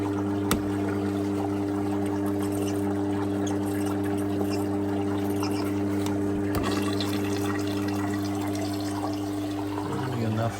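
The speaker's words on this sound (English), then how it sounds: "I'm going to drop a little bit of water out." Water is let out of a koi quarantine tank in winter, a steady trickling wash over a constant low pump hum, with a couple of sharp knocks.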